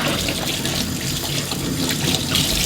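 Tap water runs steadily over a Gtech AirRam vacuum part in a sink, a close, continuous splashing hiss with slight surges as the stream is redirected.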